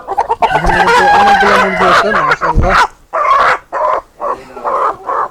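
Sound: chickens and rooster on a farm

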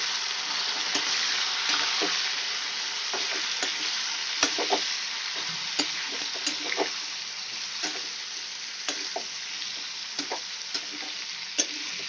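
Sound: okra and potato frying and being stirred in a pan

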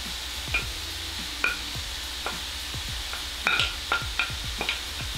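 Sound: tofu being added to a pan with cooked pork

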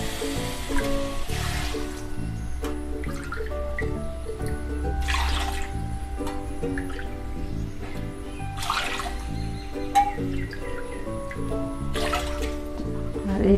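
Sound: water poured into a pan with sugar

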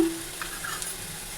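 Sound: chickpeas frying in tempering

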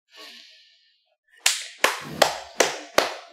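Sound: hand clapping

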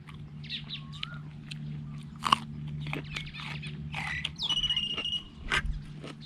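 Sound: crunchy chewing of papaya salad with fresh wolffia

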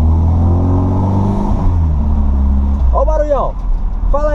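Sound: Volkswagen Voyage 1985 car engine revving

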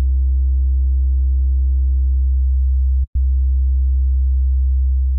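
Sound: smooth sine wave synth bass tone

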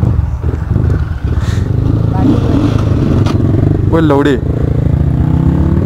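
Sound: CRF X 250 and RM250 dirt bike engines revving

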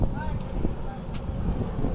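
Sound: strong wind blowing on the microphone

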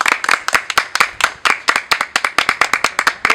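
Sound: applause for Dona Lucy

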